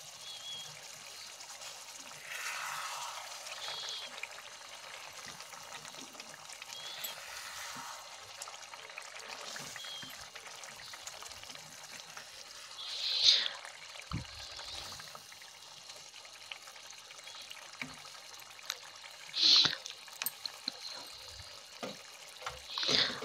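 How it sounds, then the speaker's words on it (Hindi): Water is poured into chicken kofta gravy simmering in a pan, giving a faint, steady trickle with a few brief, sharper splashes along the way. "अब इसमें हमने डाल दिया है थोड़ा सा पानी।"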